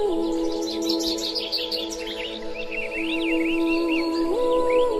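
Birds chirp and tweet in an animated forest scene, a steady run of quick high calls and trills over a soft, sustained musical tone, fairly close and clear with no talking.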